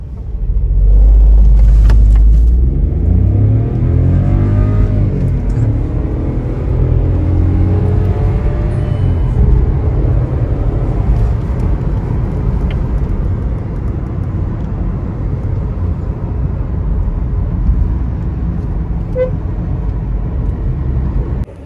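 Loud, sustained engine roar of a Volkswagen Polo GT TSI in sports mode with traction control off, a deep rumble that swells early, then holds steady as the car drives on under power.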